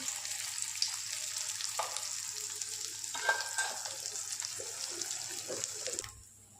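Aloo paratha frying with ghee in a hot pan, a steady, bright sizzle with a few scraping touches, close up, cutting off just before the end.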